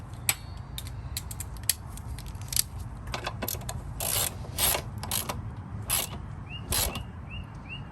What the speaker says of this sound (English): we're going to install our 10mm bolt back here